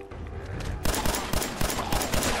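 Loud repeated gunfire in Fallout 4 as feral ghouls are shot, a dense run of sharp rhythmic bursts that starts about a third of the way in and keeps going to the end.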